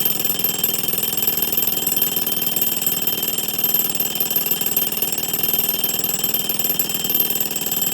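A 1935 Westclox Sleep-Meter alarm clock with a replaced spring rings continuously for the whole stretch, a loud, muffled, rasping buzz with no pauses.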